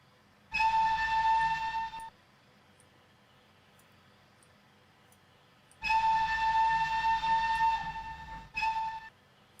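Steam locomotive Flying Scotsman from the 1920s in the Trainz game, sounding two long whistle blasts a few seconds apart and then a short third blast, with quiet running noise between them.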